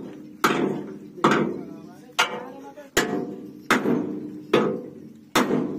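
A hammer strikes hard iron seven times at an even, unhurried pace. Each sharp, loud blow rings briefly before the next, with faint voices in the background.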